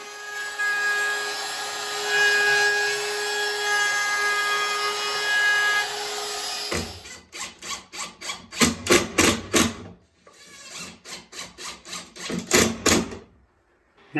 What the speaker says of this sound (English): I'm just going to route the butt ends before we assemble